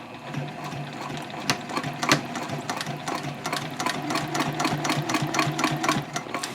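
A sewing machine stitches a bag lining onto the exterior panel at a long stitch length, running in a quick, even rattle of needle strokes close up, with no one talking over it.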